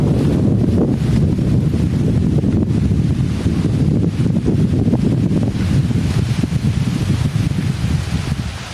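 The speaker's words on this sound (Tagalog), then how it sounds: "Malakas na hangin." Loud, steady wind rumbles against the microphone with constant gusting and no pauses at a limestone cave campsite.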